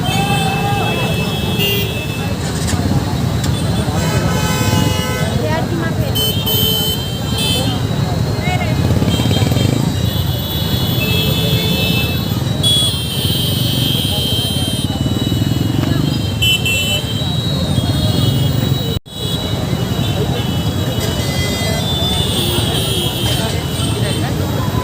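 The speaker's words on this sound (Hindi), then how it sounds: "ट्रैफिक का बहुत ही बुरा हाल है।" Heavy, congested city road traffic near a Ganesh pandal in Raipur: a dense, loud rumble of engines and motorcycles with repeated horn toots throughout, while someone talks over it.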